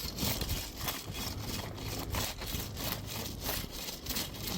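Hand tamping rod digging and scraping under a frost heave, steady rough scraping and gritty rubbing strokes at close range, continuous with no talk.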